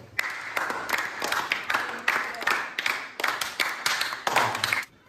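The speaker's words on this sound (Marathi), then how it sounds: "श्रुतीसाठी पुन्हा एकदा टाळ्या होऊ द्या" A small group clapping for a contestant after she solves a puzzle, made up of uneven bursts of hand claps that stop and restart several times and then end abruptly.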